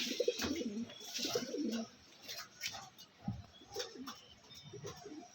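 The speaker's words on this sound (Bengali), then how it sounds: "সত্যি স্টার কালাঙ্কা পায়রা সত্যিই ভালো পায়রা, অসাধারণ কোয়ালিটি।" Star Kalanka pigeon cooing up close, several soft throaty coos in short bursts across the clip, with quieter bird sounds between them and no talk.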